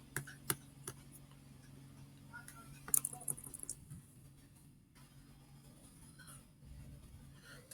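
Keys click on a computer keyboard in short, irregular bursts of light taps, faint and close, with a quiet hum underneath and a slight trace of voice.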